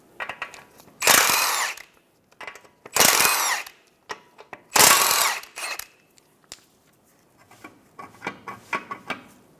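A power tool loosens the two nuts and one bolt on a ball joint of a 2014-2019 Toyota Highlander, firing three loud close whirring bursts followed by softer clattering and metal handling.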